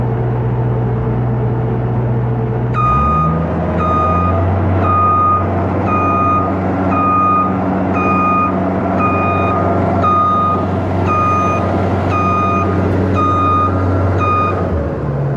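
Reversing beeps from construction equipment at a real estate development site, a steady repeating series of loud tonal beeps over a continuous engine rumble that deepens as the machine starts moving.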